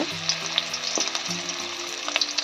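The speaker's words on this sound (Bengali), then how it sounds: "তেল তেতে গেছে, আমি প্রথমে উচ্ছেগুলো ভেজে নেব" Long, thick-cut bitter gourd pieces frying in hot mustard oil for shukto, a bright crackling sizzle with scattered pops and a few metallic clinks of the spatula.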